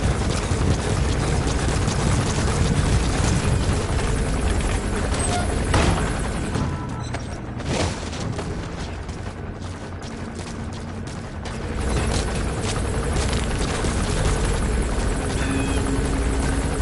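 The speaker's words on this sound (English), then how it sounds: "Looks like the arms dealer's chopper is gonna patrol for the security forces" A helicopter in the video game Metal Gear Solid V flies overhead, its rotor thumping in a dense, loud, continuous churn that dips slightly midway before swelling again.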